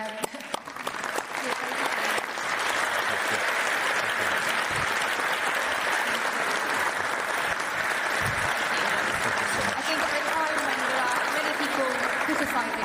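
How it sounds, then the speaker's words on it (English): A conference audience at the NATO Engages event in London, 2019, gives sustained applause. The clapping is broad and even, holds steady for several seconds and sounds moderately distant in a large hall. "Applause to that."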